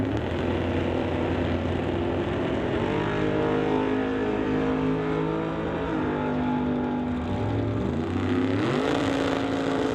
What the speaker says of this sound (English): It's a race for the quarter mile as both drivers left on the green.